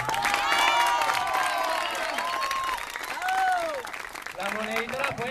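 A crowd at a Marian congregation gathering applauds and cheers for a group, a dense wash of clapping with shouts and whistles rising and falling throughout, and voices calling out over it.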